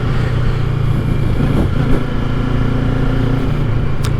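A new 2025 Kawasaki Ninja 650 riding along, its engine a loud, close, steady rumbling drone with a brief shift in pitch midway, continuous with no talk.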